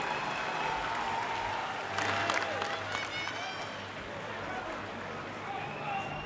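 An arena crowd at an East Coast MMA fight roars steadily after a round, with scattered whistles and a swell of clapping and shouts midway through.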